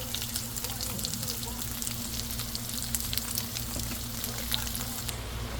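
Tofu with garlic and lemon frying in a pan gives a steady, even sizzle with fine crackles, close and constant, under a faint low hum, with no talking.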